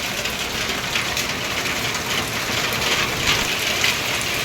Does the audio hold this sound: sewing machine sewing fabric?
no